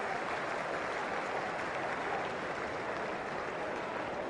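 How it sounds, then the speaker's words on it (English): A cricket crowd gives a standing ovation to a batsman, Steve Waugh, retiring hurt after a blow to the elbow. The applause is dense and steady, a continuous wash of clapping across the whole stretch with no voices standing out. "Standing ovation on the way out"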